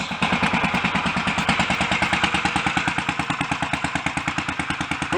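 A Royal Enfield Bullet 500 motorcycle, just back from a top-end rebuild after a holed piston, idles with a steady, loud single-cylinder thump and mechanical clatter, close by and continuous with no talking.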